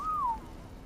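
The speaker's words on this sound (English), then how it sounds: "now we're going to whistle you to stop" A single short whistle that holds a tone and then bends downward, used as a command to stop a mount in the video game ARK Aberration, faint against a quiet background.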